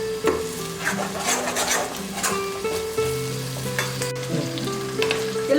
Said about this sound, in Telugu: ఇలా పచ్చిమిరపకాయలు వేసుకున్నాక ఉల్లిపాయ పేస్ట్ వేసుకొని వేసుకోండి పచ్చివాసన పోయేంత వరకు.